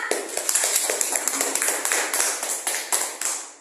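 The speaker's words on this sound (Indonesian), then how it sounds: "tepuk tangan untuk kita semua" A small group claps together in a classroom-style gathering, a quick run of sharp, close hand claps with a loose irregular rhythm, heard alone.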